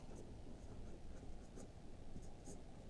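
Pen or pencil writing on paper during a calendar reasoning lesson, a steady soft scratching that runs throughout, close and continuous with small strokes, no talking.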